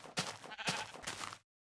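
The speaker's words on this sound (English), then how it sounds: "Oh, the sheep are just endless." A sheep in early Minecraft alpha gives several close, wavering bleats in quick succession, fairly quiet, ending abruptly into silence.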